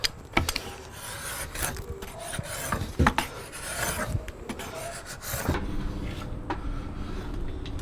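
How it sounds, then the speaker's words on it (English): A draw knife shaves wood on a self bow being roughed out, with close, continuous rasping strokes and a few sharp knocks, fairly steady throughout. "I'm down pretty doggone close to these lines with my draw knife"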